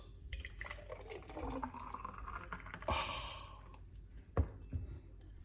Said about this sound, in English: Now we're just gonna simple pour it out.